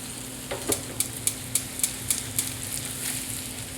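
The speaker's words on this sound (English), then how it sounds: "I'm going to add those to my sauce and get those nicely coated in that butter sauce." Pasta agnolotti are tossed and stirred in a pan of sizzling sage brown butter sauce, a steady frying hiss broken by a run of soft, evenly spaced clicks of a utensil against the pan.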